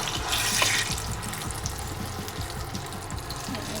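Hands dip and swish in a bowl of water while shaping Tatale, a splashy wash of water noise that is loudest early and then settles into steady trickling and sloshing, with nobody speaking.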